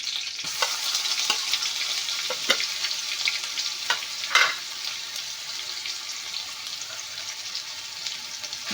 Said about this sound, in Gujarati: હવે આપણે આદુ અને મરચાં વાટીને લઈ લીધા છે તે એડ કરીશું